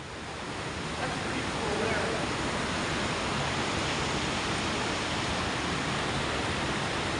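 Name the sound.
Chittenango Falls waterfall flowing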